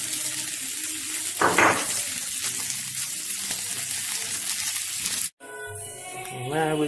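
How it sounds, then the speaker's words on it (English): Steady sizzling and crackling of peppers frying in a hot pan, continuous and fairly close, with a brief scrape and a pause near the end. "Just frying off."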